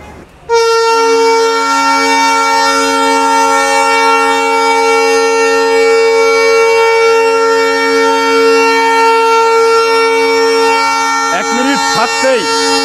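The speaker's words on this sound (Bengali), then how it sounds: "কেন জানি ট্রেন লম্বা হর্ন বাজালো আমাদের লোকোমাস্টার" A Rupsha Express train sounds a long, loud, steady horn blast lasting many seconds, close by, with a brief rising whine near the end.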